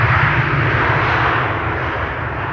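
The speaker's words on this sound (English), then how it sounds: "What better way to begin the week than with the Singapore Airlines 747 freighter" A Singapore Airlines Boeing 747 freighter arrives at Amsterdam Schiphol Airport with a loud, close jet-engine roar. The roar carries a strong low rumble and stays steady and sustained across the whole moment.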